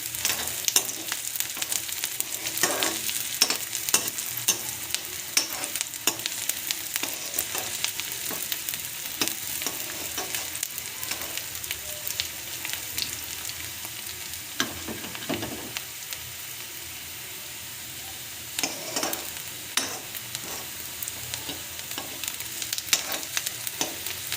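Onions frying in a pan for mung dal, a continuous crackling sizzle broken by repeated scraping stirs and clinks, close and steady for the whole stretch with no voices.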